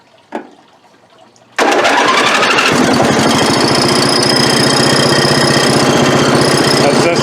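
A Craftsman riding lawn mower that had sat unused for eight years, fitted with a brand new battery, cranks and catches at once, then runs steadily with a loud, close, rattling engine drone.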